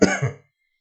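A single short, close cough from a man with a recent cough, one abrupt burst lasting under half a second, followed by silence.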